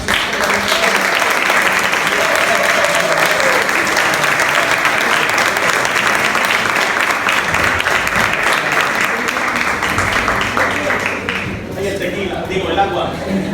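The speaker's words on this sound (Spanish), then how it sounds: "Denle un aplauso a estos." Sustained audience applause from a crowd at a literary narrative event, loud and steady for most of the stretch before thinning near the end, with a voice briefly audible underneath.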